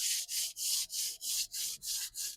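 A small sponge wrapped around a tool is rubbed up and down the sides of a guitar, giving eight steady, rhythmic swishing strokes, close and loud with no talking.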